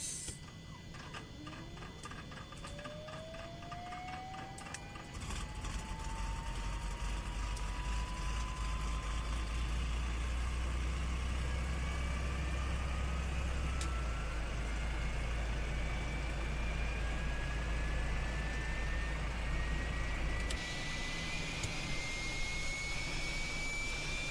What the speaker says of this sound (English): Gotta say, they did get the sounds just right with this helicopter.